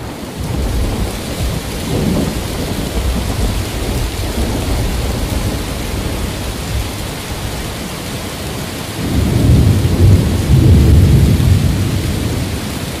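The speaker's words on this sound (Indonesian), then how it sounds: "Hujan turun tanpa jeda di desa Wonoasri malam itu." Heavy rain pours steadily on bamboo roofs during a night thunderstorm in a village, with low rolling thunder that swells louder near the end, and no talking.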